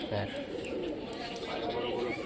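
Giribaj pigeons coo softly in Rajshahi, low murmuring calls with faint chirps in the background while someone talks over them throughout.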